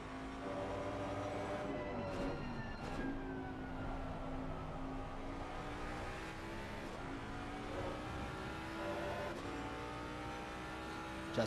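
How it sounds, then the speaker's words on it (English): A Ford Mustang V8 GT3 race car in a racing game at the Nurburgring holds a steady, loud engine drone throughout, its pitch rising and falling with brief shifts as it runs in another car's slipstream, with no talk. "Just listening to that beautiful V8 engine within this Mustang."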